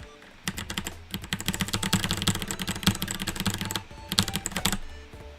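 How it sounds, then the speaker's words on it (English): Steady, fast typing on a mechanical keyboard with brown switches, the keystrokes close and clear with a deep, thocky click. A short pause breaks the run partway through. "Like the sound is much more like a thock than the ticks of a blue switch."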